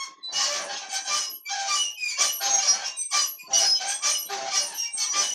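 A squeaky earth toy squeezed over and over gives bursts of shrill rubbery squeaking in an irregular rhythm, loud and close with brief gaps between squeezes.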